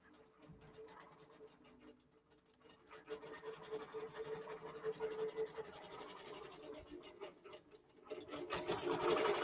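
A QBOT V3 Pro quilting machine stitches a quilt, a fast, steady mechanical whir and needle rattle that builds and keeps running, close and continuous.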